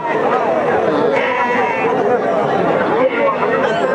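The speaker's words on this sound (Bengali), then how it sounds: "প্রচুর পরিমাণে ছাগল আছে হজরতপুর গরু ছাগলের হাটে" Numerous goats bleat over and over amid a dense crowd of chattering voices at the Hazratpur livestock market, creating a loud, busy market din.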